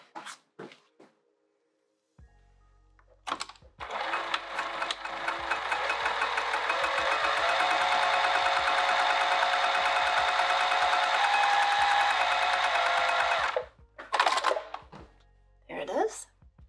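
A sewing machine top stitching a travel clutch runs in a steady, fast, close mechanical whir for about ten seconds. Short handling clicks and thumps come before and after, with brief talk around it.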